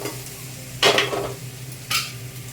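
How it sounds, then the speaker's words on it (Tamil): Greens being sautéed in oil in a pan: a soft steady sizzle with two louder scraping stir strokes, close by, and no talking. "கீரையை போட்டு வதக்கும் போது கீரை வந்து கொஞ்சம் நல்லா எண்ணெயில் வறுத்தோம்னா நல்லா சுருள இருக்கும்"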